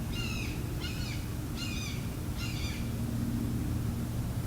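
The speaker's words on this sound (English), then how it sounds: "Sorry, there's like a really loud bird." A bird calls loudly nearby in four short, evenly spaced bursts of high, chattering notes over a steady low background hum.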